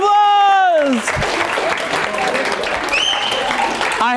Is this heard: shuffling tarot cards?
no